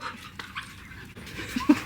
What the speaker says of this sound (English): you're going to hear my dogs